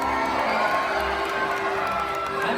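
A crowd aboard a Disney cruise cheers and applauds for Pluto, a dense, sustained roar of clapping, whoops and children's shouts with no pause.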